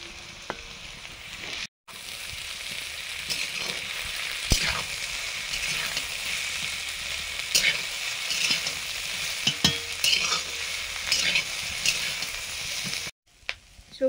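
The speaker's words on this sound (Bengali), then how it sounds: "সবজিগুলো ভাজা হয়ে গেছে" Shredded cabbage and capsicum fry in a hot pan for egg chow mein, giving a loud, continuous sizzle broken by stirring and tossing scrapes, with no voices over it.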